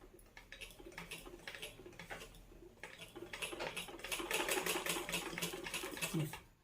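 A tailoring sewing machine runs in steady bursts of rapid mechanical clatter as cloth is guided and turned to stitch a round shape, growing louder and busier toward the end.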